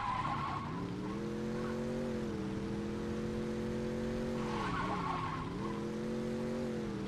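Car in Saints Row 2 driving with a steady engine drone that dips and rises in pitch, over a bed of tire noise and two squealing skids, no talk.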